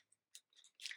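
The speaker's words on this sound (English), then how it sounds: "those are like my main scissors" A knitter's main pair of scissors is handled, giving a few faint, crisp metallic snips and clicks that grow slightly louder toward the end, with no talk.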